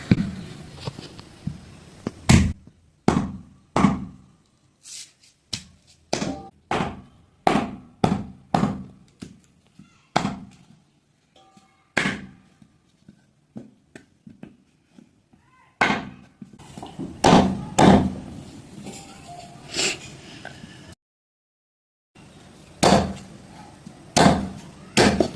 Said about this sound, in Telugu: ఒకసారి ముక్కలు కొట్టేసుకుందాం.